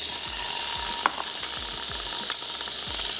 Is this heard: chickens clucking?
no